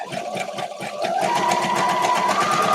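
A sewing machine stitches a zigzag across thin vintage quilt block fabric, a steady close mechanical whir with a rhythmic chatter that speeds up and holds even after the first second, with no voices.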